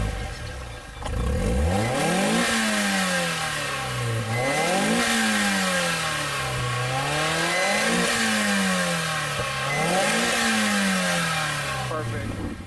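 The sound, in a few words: Mazda Miata NB engine revving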